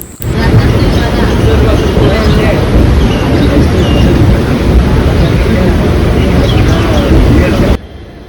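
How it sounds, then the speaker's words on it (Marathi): Janshatabdi Express 12051 pulling out of Panvel station, a loud, steady rumble of the moving train heard from inside the coach for about eight seconds, with passenger chatter underneath. "आता ट्रेन निघाली पनवेल स्टेशनवरून"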